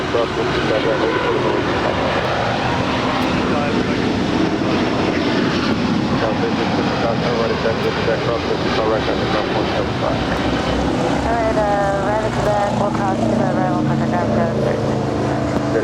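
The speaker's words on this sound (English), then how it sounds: "This is SAS Flight 932 departing to Copenhagen. It's an A350 900." An SAS Airbus A350-900 departs Los Angeles LAX, its broad engine roar holding loud and steady throughout, with a faint voice underneath.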